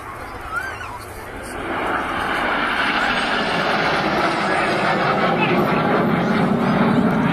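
Red Arrows display team jets flying past at an air show, a loud broad roar that swells and holds steady, with a voice heard faintly beneath it.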